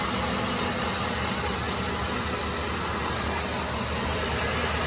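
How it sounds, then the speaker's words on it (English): A steady car engine idles beneath a constant loud hiss, like air being sucked through a leak, unchanging throughout. "Oh yeah, look, a huge vacuum leak right here."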